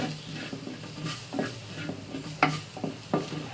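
Chopped tomato stirred and fried in a pan for Kerala-style varutharacha mutton curry, giving soft sizzling under a few scraping stirs and light clinks of a spoon against the pot.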